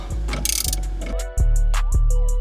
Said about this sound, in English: I'm going to tighten it as tight as possible.